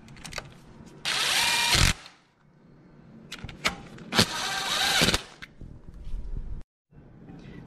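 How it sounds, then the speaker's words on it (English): A power drill drives 10 mm bolts on a car's coil rail during a spark plug change, with two longer whirring bursts and a few short blips, close and alone. "Then I'm gonna grab my drill,"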